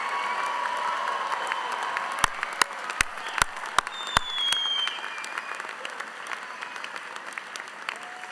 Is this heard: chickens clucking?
no